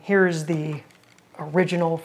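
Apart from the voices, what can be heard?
No everyday noises stand out.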